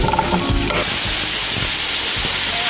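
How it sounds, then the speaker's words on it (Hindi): Onions frying in a pan for Punjabi pulao, a loud, dense sizzle and hiss with a few soft stirring scrapes, close and continuous. "अब ये प्याज फ्राई हो गया।"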